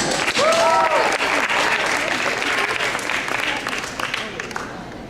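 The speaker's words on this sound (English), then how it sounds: "Let's give her a round of applause." Loud, sustained applause from an audience fills the stretch, with a brief voice or cheer rising over the clapping near the start.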